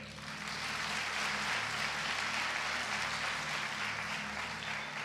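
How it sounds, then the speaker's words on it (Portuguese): A congregation at a church service claps steadily and evenly, a continuous wash of applause at moderate volume with a low sustained musical tone underneath. "Vamos ver se a palma melhora um pouquinho."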